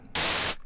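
A burst of white noise from the Vital software synthesizer, a flat, loud hiss that switches on abruptly, holds steady for under half a second, then cuts off, with near silence before and after.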